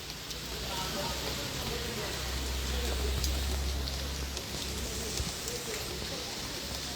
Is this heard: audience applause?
no